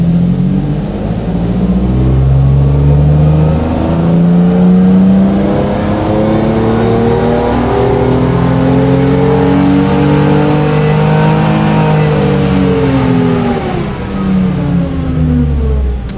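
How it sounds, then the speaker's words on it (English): A car engine on a chassis dyno runs a wide-open-throttle ramp, revving loudly and steadily climbing in pitch for about fifteen seconds before easing off at the end, close and sustained with no talking. "So let's do our first ramp run now on the dyno and we'll see"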